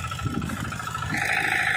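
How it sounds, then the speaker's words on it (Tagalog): A brother's motorbike engine idles close by with a steady low rumble, its tone rising slightly in the second half, with a hint of water running near a fishing spot. "Ito yung motor ng kuya ko."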